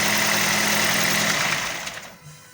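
A Ford C-Max engine runs after an oil change with a steady close idle hum and a slight rattle, then winds down and stops near the end, with no talking.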